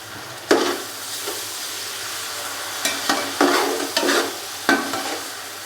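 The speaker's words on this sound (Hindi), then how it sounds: "टमाटर डालने के बाद थोड़ा सा इसको भून लेंगे 2 से 3 मिनट के लिए, ताकि टमाटर अच्छे से गल जाएं।" Finely chopped tomatoes fry in ginger-garlic paste for chicken pulao, a steady close sizzle broken by repeated scraping stirs of a spoon against the pan, no voices.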